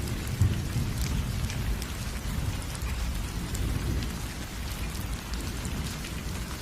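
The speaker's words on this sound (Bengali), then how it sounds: "আর তখনই আচমকা প্রচুর বৃষ্টি শুরু হয়।" Heavy rain pours in a loud, steady hiss with low rumbling thunder underneath, an unbroken storm effect for a Bengali cartoon with no voices.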